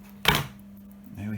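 A knife cuts once through smoked fish, a single short crunchy chop close by against near silence.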